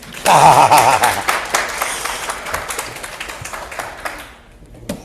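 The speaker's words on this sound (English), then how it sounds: "Yes, please clap." Audience clapping at an IEEE CogSIMA keynote on LLMs in human-AI interaction, starting loud and full, then thinning gradually and trailing off, with a faint tonal ping early on.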